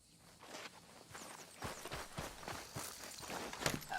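Horse hooves walk steadily in the video game Red Dead Redemption 2, a close, even clip-clop that grows a little louder over a faint ambient background.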